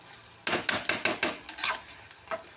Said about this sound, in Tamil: வெங்காயத்தை நல்லா வதக்குறோம்